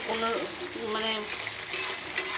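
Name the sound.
chicken being stir-fried in a pan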